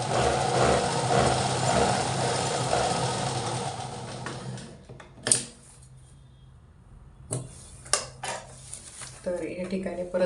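A sewing machine runs steadily with a dense mechanical whir, putting in a pressing stitch, then stops, followed by a few sharp clacks and handling noises up close.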